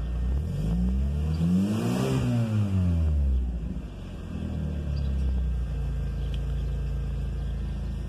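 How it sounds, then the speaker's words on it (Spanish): A VW 2.0 engine, freshly through a throttle body calibration, revs up and back down early on, then settles into a steady, stable idle rumble close by, with no talk. "Y están estables las revoluciones."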